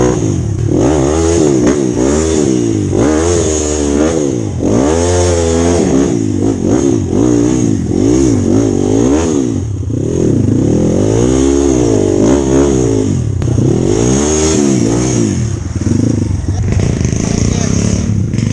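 A motorcycle engine revs up and down over and over, loud and close, with the pitch rising and falling throughout.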